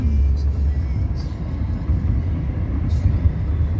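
A cargo truck rumbles past on a mountain road between Santa Fe and Isabela, a loud, close, low drone of traffic that holds throughout.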